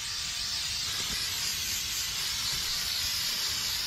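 A loud, steady hiss of spray paint from an aerosol can onto a Ford Crown Victoria body, continuous and close up with no pauses.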